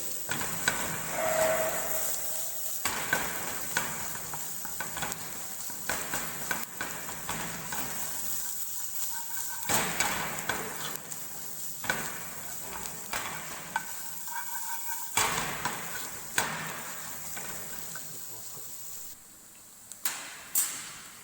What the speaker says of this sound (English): now we will mix it properly. We will stir it.